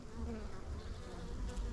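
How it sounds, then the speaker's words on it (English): Honeybees buzzing at an open hive during a beekeeping inspection, a steady close-up drone that holds evenly throughout with no voices. "So that little bee's got some pollen on its legs down there."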